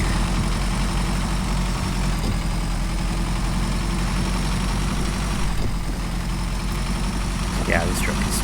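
A heavy truck engine idles in Snowrunner on snowy off-road terrain, a steady low rumble held close and constant for several seconds with faint chirps of other sounds.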